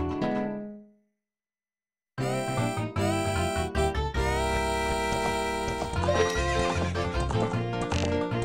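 Epona, the horse in the video game Zelda: Ocarina of Time, gives a short whinny that fades out, then after a gap loud game music with hoofbeat-like rhythm plays continuously.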